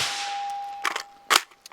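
Two sharp, close gunshots through a YHM Fat Cat suppressor, each a brief loud crack with a short ringing tail, separated by about half a second over a steady background tone.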